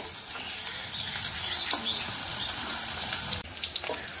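Remaining food pieces frying in hot white oil in a wok give a bright, steady crackling sizzle, with a few utensil scrapes and a brief dip near the end.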